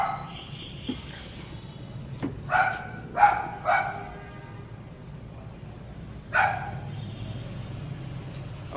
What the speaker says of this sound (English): Oh, the dog's on the roof right now.